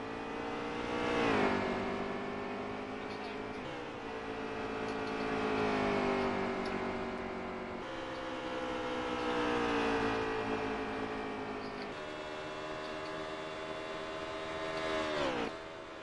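Racing truck engines in the Veedverks Gunman Truck Series video game, loud sustained engine drone rising and falling with gear shifts and revving as the trucks push lap after lap, no talk.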